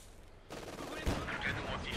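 Machine gun fire in the video game Company of Heroes 2, a steady burst of rapid shots that starts suddenly partway through and continues loudly to the end, with a voice talking over it.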